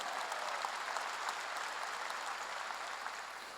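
A church congregation claps during a Sunday worship service, a steady dense patter of many hands that carries on without a break and sits at a moderate distance in a large room.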